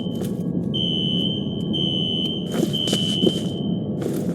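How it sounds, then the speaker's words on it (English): Fire alarm in the F.E.A.R. video game, a steady high electronic tone that sounds in long sustained stretches with brief breaks, over low ambient hum and a few bursts of noise. "A fire alarm. It was triggered at a security office on that floor."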